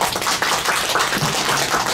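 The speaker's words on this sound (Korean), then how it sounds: "큰 박수 올려주십시오." Audience applause at a public forum on judicial-harm cases in a hall, dense steady clapping from many hands filling the whole short stretch, no voices.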